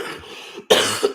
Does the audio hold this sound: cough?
yes